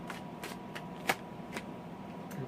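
Santa Muerte tarot cards are shuffled by hand, giving soft papery riffles and several sharp flicks spaced through a quiet, close room.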